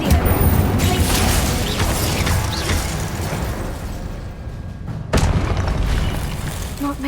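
Spells cast in the Hogwarts Legacy video game, including blasting, fire and ice effects: loud, sustained whooshing booms and crackling bursts, with a sharp new blast partway through.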